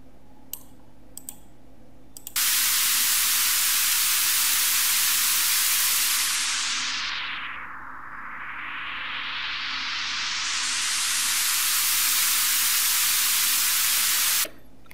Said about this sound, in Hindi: या हम कह सकते हैं कि विंडे इफ़ेक्ट क्रिएट हो रहा है।